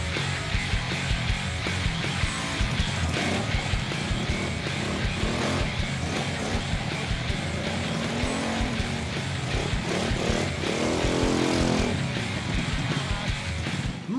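A petrol engine hums steadily close by, then revs up with rising whines as the vehicle accelerates, the pitch climbing toward the end.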